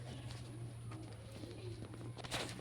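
A pigeon's cooing rolls on quietly at a moderate distance, low and continuous, over a steady electrical hum and faint household background noise.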